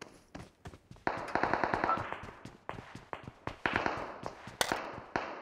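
Rapid bursts of automatic M4 rifle fire in the BGMI battle royale game crackle in quick, uneven volleys, loud and close, with sharp repeated cracks running almost continuously.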